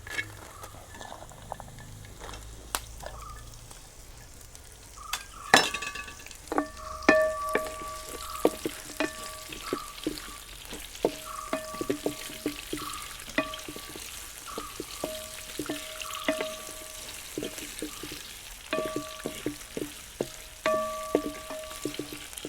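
Onions and carrots frying in a pot for chicken bukhari rice, a continuous sizzle under frequent spatula knocks and scrapes that fall into a fairly regular stirring rhythm, close and clear.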